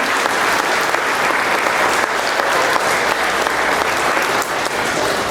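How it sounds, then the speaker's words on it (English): An audience at a school kindergarten Veterans Day assembly gives a steady, dense round of applause, loud and continuous throughout with no talk on top. "So let's give them a round of applause"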